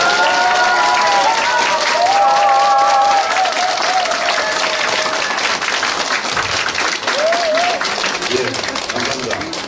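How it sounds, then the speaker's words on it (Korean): Sustained applause from a crowd at a political party members' meeting in Daegu, dense clapping with cheering and voices over it, slowly fading toward the end. "큰 박수 부탁드리겠습니다."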